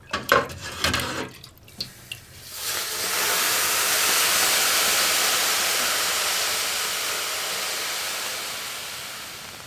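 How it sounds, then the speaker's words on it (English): Water poured onto hot sauna rocks bursts into a loud, sustained hiss of steam after a few brief splashes and clinks, the hiss holding steady for several seconds before slowly fading. "loilu is the act of pouring the water onto the rocks. And it's also the experience of the water becoming steam"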